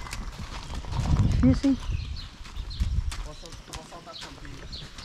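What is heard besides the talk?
mare's hooves clip-clopping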